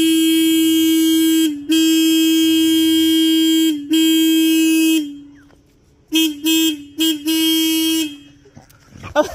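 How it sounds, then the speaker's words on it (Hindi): Car horn honks in a series: long sustained blasts followed by several short quick toots, loud and close, ending with brief noise. "फिर हॉर्न मारेंगे।"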